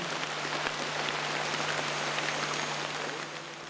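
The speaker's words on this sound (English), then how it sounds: "Rain come down and rain protects me." Steady rain falls in a jungle, a dense, even hiss of drops on foliage and surfaces that continues unbroken from start to finish with no talk.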